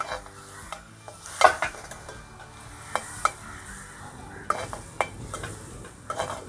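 Chicken pieces sizzle in melted butter in a pan while a utensil stirs them, scraping and clinking at irregular moments over a steady frying hiss.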